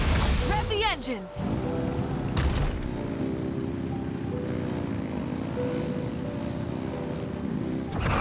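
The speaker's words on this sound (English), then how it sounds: "Rev the engines!" Boat engines revving in the video game Genshin Impact, a droning motor hum that carries steadily under game characters' voices after a burst of sound effects at the start.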